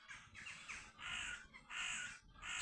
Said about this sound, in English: Just listen to all those bird sounds for 1 second.